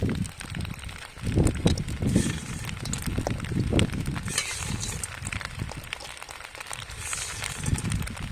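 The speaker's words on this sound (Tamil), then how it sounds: "இப்ப பொரிச்சு வச்சுக்க சிக்கனை சேர்த்து கிளற போறோம்." Fried chicken being stirred into pasta in a pan, a steady sizzling hiss with scraping stir strokes running throughout, loud and close.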